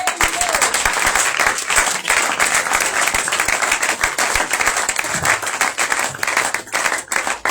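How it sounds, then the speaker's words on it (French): A congregation at a Shavuot prophetic conference claps vigorously and continuously, a loud, dense roar of many hands with sharper individual claps standing out and crowd voices blended in throughout. "Est-ce qu'on peut lui donner les acclamations?"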